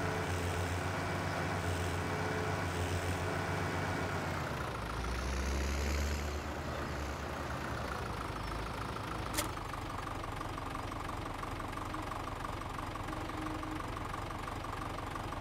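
A small tractor engine idles steadily in a farming video game, a continuous low rumble with a brief surge in revs midway before settling back to an even idle.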